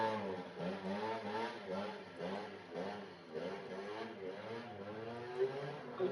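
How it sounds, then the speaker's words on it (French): A motorcycle engine revs in a video game, rising and falling in repeated surges with a steady, buzzy mid-range drone, moderately loud and alone. "J'ai bien entendu la moto."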